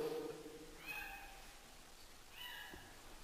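A house cat meows twice, soft and fairly close, with a pause between the calls and a quiet voice murmuring at the start.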